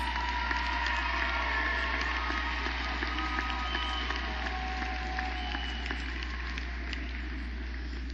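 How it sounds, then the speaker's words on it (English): A graduation ceremony audience at Tougaloo College applauds graduates' families, a steady, dense wash of distant clapping from a large crowd in a big venue, continuous and even without pauses. "Graduates, give your support team a round of applause."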